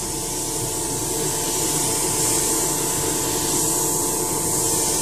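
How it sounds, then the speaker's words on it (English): An airbrush sprays paint for preshading a scale model command cruiser, a continuous close hiss of air and paint that holds steady the whole time, with no voices. "So I can start seeing just what this airbrush can do."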